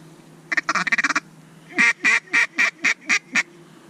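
Ducks quacking near a hunter standing in cattails: a fast burst of clipped quacks followed by six or seven loud, evenly spaced calls, close and clear with no talk.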